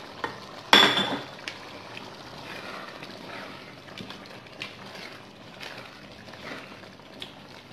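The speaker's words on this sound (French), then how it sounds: "Je vais ajouter mes carottes." Carrots tip into a pot of simmering ground-meat bolognese sauce, giving one loud clattering thump near the start. Softer scrapes and stirring clinks follow over a steady background hiss, with no talking.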